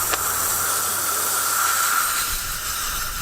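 Aerosol brake cleaner sprays into the carburetor of an old abandoned tractor in one steady, close, loud hiss lasting about three seconds.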